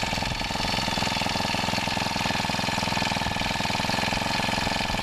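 A Honda FG110 mini tiller engine idles steadily while warming up after starting, a fast even putter with a constant mechanical hum, close by and unchanging, no voices.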